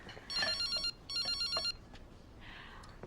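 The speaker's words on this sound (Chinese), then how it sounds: "接个电话。" A telephone rings indoors in two electronic bursts with a short pause between them, clear and moderately loud, followed by faint room sound.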